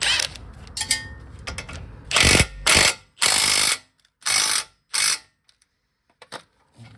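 A ratchet wrench clicks as it tightens a 17 mm nut on an inner tie rod of a 2004 Toyota Avalon with the 6-cylinder engine. Close, loud bursts of rapid clicking come in several separate strokes with short pauses between them.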